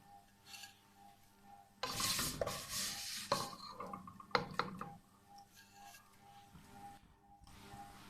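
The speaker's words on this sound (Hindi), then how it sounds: "ये सारी चीज़ें हम स्लो आंच पे तलेंगे, फ्राई करेंगे।" Vermicelli fries on a slow flame while being stirred for sheer khorma, with quiet close scraping and rustling bursts of a spoon against the pan between softer pauses.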